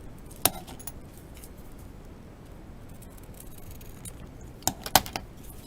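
Scissors trim the edge of a length of craft ribbon, a few short crisp snips, one early and a quick cluster near the end, over quiet background.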